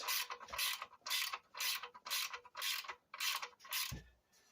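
A ratchet wrench tightens studs on the catalytic converter heat shield of a 2008–2010 Honda Accord. About eight evenly paced bursts of rapid clicking are heard close by, ending with a dull knock.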